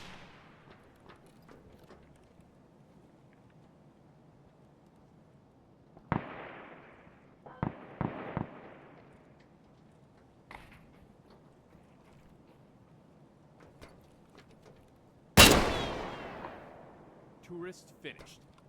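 Sniper rifle gunfire in the Escape from Tarkov shooter game: a few sharp distant cracks, then one loud close shot with a trailing echo near the end, over quiet ambient game noise.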